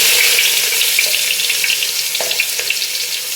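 Chopped onion sautéing in hot coconut oil in a pan, a steady close sizzle with small crackles and a faint stir or scrape, no talking over it.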